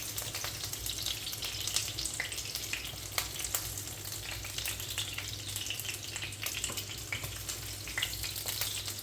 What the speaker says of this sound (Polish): Bardzo fajnie się smażą